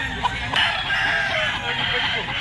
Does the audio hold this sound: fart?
no